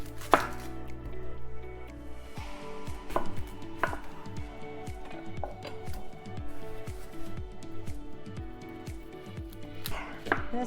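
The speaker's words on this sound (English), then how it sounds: "Guess we could cut up an onion." A knife chops an onion on a cutting board in quick, close, crisp strokes, a steady rhythm of sharp taps with no talking.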